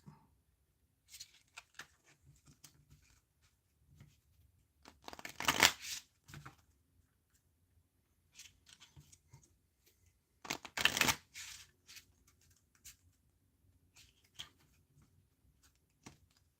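A deck of playing cards being shuffled for a solo card game, with soft handling and sorting rustles broken by two loud riffle bursts, close to the ear and with no talk.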